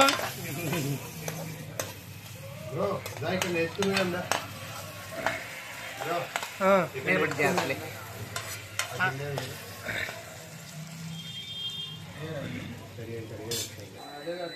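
Chicken sizzles and fries in a pan on an induction cooktop while a spoon scrapes and stirs, with people talking over it throughout.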